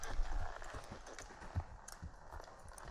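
A horse trotting in the corner of an arena, its hoofbeats landing as a steady run of soft, close clip-clop thuds over a dusty background hiss.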